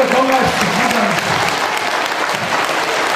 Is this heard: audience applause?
yes